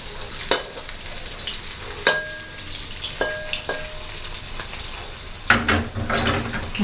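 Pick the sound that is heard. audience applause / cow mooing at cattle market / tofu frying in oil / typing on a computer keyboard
tofu frying in oil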